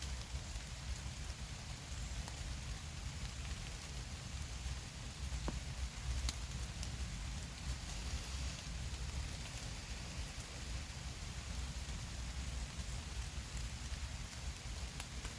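Steady autumn rain patters down in a quiet forest, a continuous soft hiss of drops on leaves and ground with no voices.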